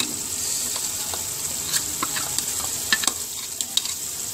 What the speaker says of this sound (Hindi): अब दोस्तों इसमें डालेंगे ये आलू का पेस्ट, ये सारे का सारा जाएगा इसके अंदर